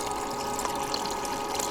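Water runs steadily through a 5-gallon bucket gold-recovery setup, washing material in a continuous soft gurgling rush with faint trickles and small splashes, fairly quiet and unbroken, with no talking.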